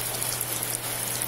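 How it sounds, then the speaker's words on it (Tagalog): Rain keeps falling steadily in San Miguel, Bulacan, a continuous near patter and hiss of drops striking surfaces, with a faint low hum underneath. "Hanggang ngayon umuulan pa rin, hindi pa rin humihinto."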